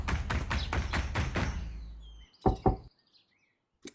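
A door is knocked, first in a rapid series of heavy raps, then two separate knocks after a pause, fairly close and clear with faint chirps between.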